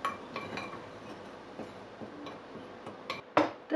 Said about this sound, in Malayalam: ഈ പൊടി എല്ലാം കൂടെ ഇതേപോലെ നന്നായിട്ട് മിക്സാക്കി കൊടുക്കുക.